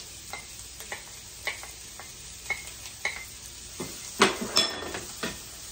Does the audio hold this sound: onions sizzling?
yes